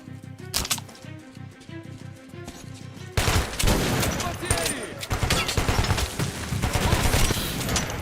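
Gunfire from a small single-barrel shotgun in the post-apocalyptic shooter Metro Last Light, with blasts and a loud burst of chaotic shooting that swells in the second half and keeps going to the end.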